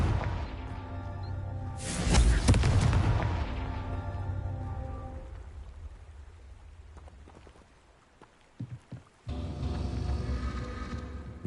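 A Confringo blasting spell in a video game bursts into a loud, close explosion that rumbles and fades over several seconds, followed by a second, smaller blast near the end.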